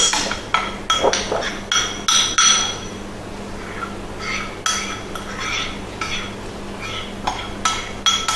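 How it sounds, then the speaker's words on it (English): A spoon scraping set chocolate for peppermint chocolate bark, with uneven metallic clinks, clunks and scrapes against a pan or tray, close and fairly loud in irregular bursts, no speech. "Might be a little bit of clunking around while I scrape the chocolate."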